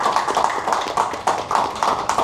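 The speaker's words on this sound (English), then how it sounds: "A round of applause for him." An audience claps at a public-speaking education session, a steady dense burst of applause close by, running throughout with no talk over it.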